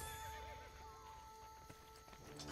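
A horse in the video game Assassin's Creed Brotherhood whinnies with a rising and falling cry while its hooves clip-clop nearby, set against a soft in-game background hum.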